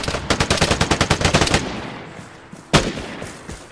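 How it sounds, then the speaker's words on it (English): Rapid automatic gunfire from the online shooter game Vigor, a fast burst of about a dozen loud shots followed by a pause and one more sharp, close shot. "I'm getting shot back."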